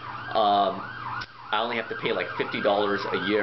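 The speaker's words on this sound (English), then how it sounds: "Sorry for the sirens." Emergency vehicle sirens wail in rising and falling sweeps outdoors, loud under someone talking.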